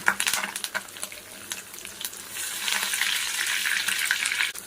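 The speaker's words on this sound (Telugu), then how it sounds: "కరివేపాకు కూడా వేసి వేపుకుందాం." Curry leaves tossed into hot oil with frying fish crackle and hiss loudly, with brisk stirring clatter early on and then a swelling continuous sizzle, close and without speech.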